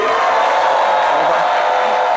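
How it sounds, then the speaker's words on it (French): Studio audience on a midday television talk show applauds and cheers a guest as they take their seat, a dense, steady wash of clapping and crowd noise throughout. "vous avez raison de l'applaudir"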